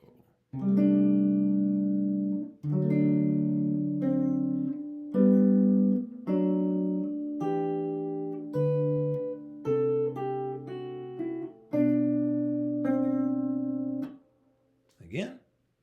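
A solo guitar plays the second line of a Christmas piece at a steady tempo, with a series of sustained chords and melody notes ringing clearly and close, then stopping before a brief breath-like sound at the end.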